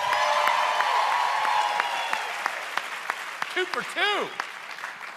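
Audience applause during a comedy-improv talk by a Dallas speaker, dense clapping from a crowd that fades out, with a voice speaking and a whooping cheer near the end.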